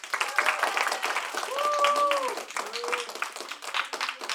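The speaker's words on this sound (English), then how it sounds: "a round of applause" Audience applause at a school humor celebration, moderate clapping from a crowd mixed with overlapping voices and a few tonal vocal sounds.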